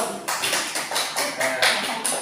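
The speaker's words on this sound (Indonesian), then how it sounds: "silakan tepuk tangan dulu" A classroom group claps together in short, loud bursts that come at a steady, rhythmic pace, with some voices mixed in.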